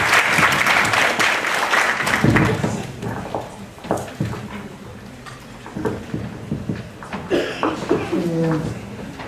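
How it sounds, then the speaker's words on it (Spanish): Conference audience clapping to welcome a speaker at a forensic neuropsychology talk; applause fades within a few seconds into scattered claps, handling noise and voices. "Le damos un aplauso para darle la bienvenida"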